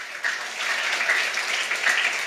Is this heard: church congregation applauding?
yes